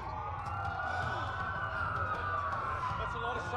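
Wailing police sirens in a video game rise and fall continuously, with another tone layered over a steady low rumble and background noise.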